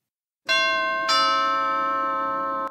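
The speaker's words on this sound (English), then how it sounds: "Someone rings your doorbell" A two-tone doorbell chime rings at a front door, two clear struck notes in quick succession that ring out and sustain before cutting off, loud and close with no voices.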